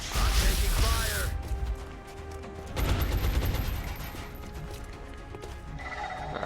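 Gunfire from the strategy video game XCOM Long War, with loud bursts of shots and crackling in the first seconds, then another volley mid-clip that fades into lighter clatter and game effects.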